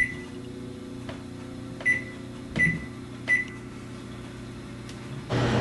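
An oven's control panel is being set for cooking time while beef bones roast for pho: four short, evenly spaced beeps sound over a steady appliance hum, followed by a louder burst of noise at the end.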